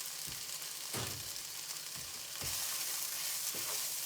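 Chopped garlic sizzles steadily in a pan on a plug-in hob, a constant hiss broken by several soft clunks of stirring against the pan.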